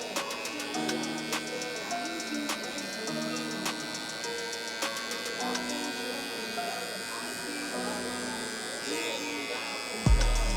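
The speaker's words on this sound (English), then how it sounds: "So now we're gonna come in with the clipper, lever all the way open." Electric hair clippers with the lever fully open cut a burst fade on a mullet, buzzing steadily with a close, tonal hum that pulses slightly as strokes change, ending with a thump near the finish.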